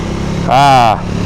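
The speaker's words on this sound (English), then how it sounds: "riding the back twisty roads on a 400cc motorcycle" Engine of a 2027 Triumph Tracker 400 motorcycle, a 400cc bike ridden on twisty back roads in Oregon, giving a brief rising rev swell over a steady drone, with a voice speaking over it.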